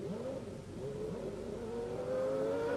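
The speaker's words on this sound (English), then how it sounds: "Alain Prost's gearbox wasn't right. Listen to him looking for gears" A McLaren Formula One car driven by Alain Prost, its gearbox faulty, revs hard and unevenly as the pitch rises and falls while it hunts for gears. The engine is continuous, loud and close, with no talk.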